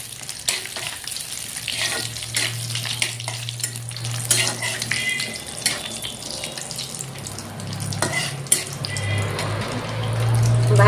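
Whole spices (bay leaf, dried red chili, clove, cardamom, cinnamon and cumin seeds) fry in hot oil in a pan, giving a steady close sizzle with occasional stirring clinks and a low hum underneath, no talking.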